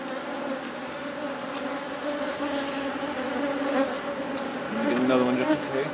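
Honeybees buzz steadily around a mating nuc hive, a close continuous drone with a few louder passes near the end.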